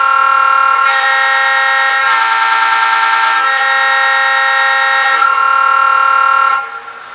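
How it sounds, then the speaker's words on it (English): A loud, sustained quilling train horn from an American Flyer U33C model locomotive blares close by, its pitch and intensity swelling and easing in waves as it is played, then cutting off. "what the quilling horn sounds like."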